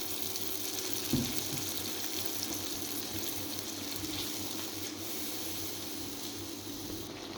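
Water is added to a spiced egg and onion curry cooking in a pan, giving a steady, soft hiss and sizzle that runs evenly throughout, with one brief thump near the start.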